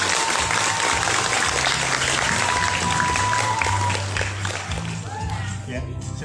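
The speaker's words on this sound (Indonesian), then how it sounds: "Mari beri tepuk tangan." Applause from the audience at a school student council (OSIS and MPK) final-three event at SMPN 3 Amlapura, steady dense clapping from a crowd that tapers slightly near the end, with a voice briefly heard over it.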